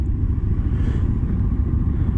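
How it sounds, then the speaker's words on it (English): Several motorcycle engines, including a Honda CB500X, run and rev outdoors among a group of bikers, giving a steady, loud low rumble with no voices on top. "can you start your bikes up, lads?"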